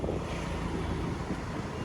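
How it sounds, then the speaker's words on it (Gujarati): Strong, steady wind roars and buffets continuously across the whole stretch, a loud broadband rush with no pauses or voices. "ફૂલ પવન થઈ ગયો છે અત્યારે"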